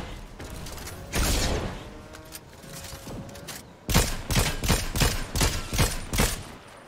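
Sniper rifle fire in a video game, heard as sharp reports with mechanical clicks between them, first a few spaced shots and then a quick rhythmic run of loud bursts near the end, with no voices.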